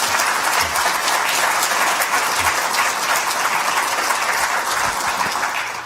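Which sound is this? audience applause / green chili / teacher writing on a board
audience applause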